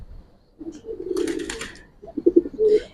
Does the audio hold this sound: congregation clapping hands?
no